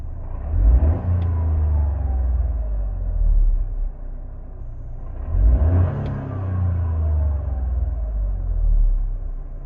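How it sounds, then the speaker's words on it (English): A Toyota GR Yaris engine revs up twice to about 4,000 rpm, heard from inside the cabin with engine sound enhancement turned off, each a rising roar that peaks and then settles back to a low idle rumble. "sitting here inside the cabin and revving the engine to 4K"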